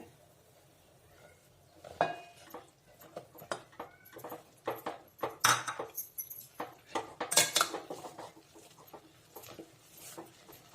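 A ghee-greased rolling pin stirs rice flour dough in a pan over low heat, giving a busy run of close knocks, scrapes and clatters that grows denser partway through.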